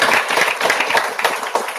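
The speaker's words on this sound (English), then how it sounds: "So round of applause to all my girl children here." Brief burst of audience clapping for girl students at a talk on entrepreneurship and start-ups, a moderately loud, dense patter from a hall crowd lasting under two seconds.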